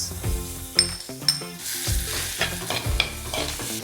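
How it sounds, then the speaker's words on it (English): Tomatoes, onion and spices sautéing in a pan for a prawn curry, with steady sizzling and repeated spoon stirring and scraping against the metal pan, close and clear with no voices. "So I'll keep sauteing it."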